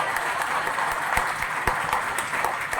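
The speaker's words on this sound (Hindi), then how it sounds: "थोड़ी थोड़ी तालियां बज रही है" An audience claps steadily in a hall, a dense continuous patter of many hands with a few sharper individual claps standing out, sustained throughout with no pauses.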